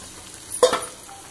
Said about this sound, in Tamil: இப்போ புளி தண்ணி விடுவோம்,